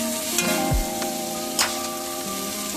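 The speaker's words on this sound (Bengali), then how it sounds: "ভাজবো এতে সবজিগুলো সেদ্ধও হয়ে যাবে আর ভাজাও ভালো হয়" Cauliflower pieces sizzle and crackle steadily in hot oil, with a few light clinks of a utensil stirring the pan, close up and continuous.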